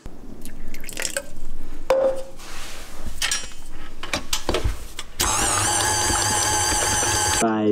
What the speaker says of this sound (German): gebe ich den jetzt gleich noch mal einmal zurück unter den Knethaken und lasse so ein bisschen Wasser noch mit reinrauschen